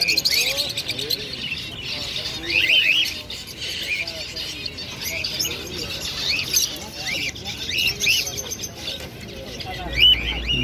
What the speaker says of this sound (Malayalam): ലവ് ബേർഡ്സ് പല തരത്തിലുള്ള ലവ് ബേർഡ്സുകളൊക്കെ ഉണ്ട്